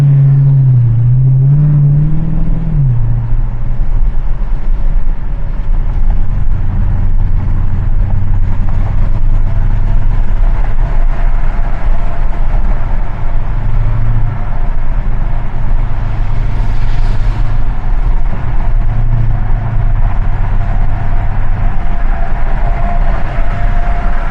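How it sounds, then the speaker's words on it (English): A 2014 Dodge Challenger SRT8 fitted with a Borla muffler drives steadily, its deep exhaust rumble loud and continuous from the cabin, with brief rises in engine note and no talking. "or at least the back side of it's got Borla muffler. Sounds really good."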